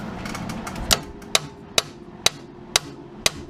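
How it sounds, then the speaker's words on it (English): Sharp metallic taps on a bolt being driven down into a 2008 BMW X5 front strut during a strut replacement, six distinct hits at roughly half-second intervals, close and clear over low garage hum. "You should be able to just tap that down."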